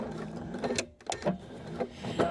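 A sewing machine makes a tiny back stitch during final assembly of a fabric bag, with a few quick mechanical clicks and whirs over a faint, steady room hum.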